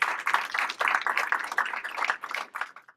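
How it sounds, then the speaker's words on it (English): Audience at a business speaker showcase in Research Triangle Park applauding, a dense patter of many hands clapping steadily for a few seconds, close and moderately loud, then fading out. "A big round of applause for the local studio."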